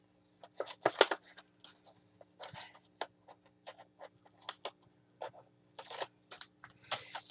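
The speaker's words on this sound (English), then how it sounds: "we're just going to take the tape off" Tape backing being peeled away during mini album crafting, heard as a string of quiet, crisp crackling and ripping bursts over a steady low hum.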